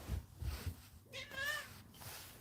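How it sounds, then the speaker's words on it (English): A chunky pet cat gives a single drawn-out meow in a quiet indoor room, preceded by a few soft low thumps of handling. "Do you guys like to see my cat?"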